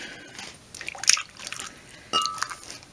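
Melted melt-and-pour soap is poured from pots, giving brief liquid drips and splashy trickles in a couple of short bursts, quiet and close with no talk.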